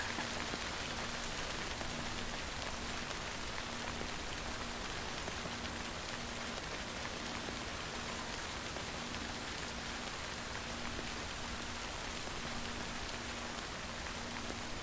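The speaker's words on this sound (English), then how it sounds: "For now, just wait for the rain to go, I guess." Steady, dense rain in the video game Death Stranding hisses without pause, with a faint low tone humming constantly underneath.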